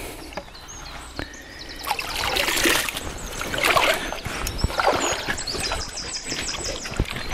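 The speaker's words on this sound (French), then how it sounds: "Je sais pas si vous entendez les oiseaux qui chantent là" Birds chirp and sing against a steady wash of a running stream near a castle, with occasional splashes and rustling nearby.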